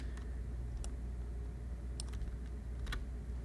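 Computer keyboard keys pressed while working in Maya 3D software, a few scattered soft clicks and taps spaced irregularly over a steady low hum.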